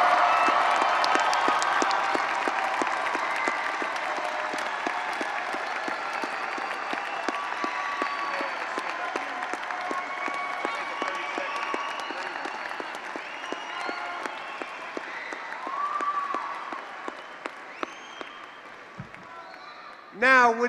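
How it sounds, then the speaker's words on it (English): A crowd applauds a high school graduating class of 2023 at a commencement ceremony, with sustained dense clapping and some cheering that gradually thins toward the end. "Can we please have one more big round of applause for the Centaurus graduating class of"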